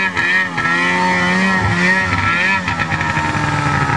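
A truck's engine strains through mud on a farm, loud and close, revving with shifting pitch and a continuous throaty growl that dips briefly now and then.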